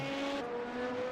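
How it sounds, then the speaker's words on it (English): LMP2 prototype race cars in the iRacing simulator, running an endurance race at Sebring, pass with a steady high engine whine and a pitch shift as they go by, heard briefly and fairly faint. "here comes a couple LMP2s"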